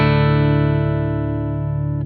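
A clean bass guitar tone with no compressor or effects rings out as one sustained note with steady harmonics, slowly decaying and heard alone.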